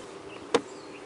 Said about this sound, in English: Shook most of the bees off.